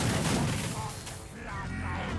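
Volleys of Skaven Jezzail long guns firing in a Total War: Warhammer 3 battle, a dense continuous wash of distant crackling shots and booms with no clear gaps, steady and fairly loud throughout.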